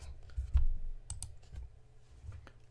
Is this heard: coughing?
no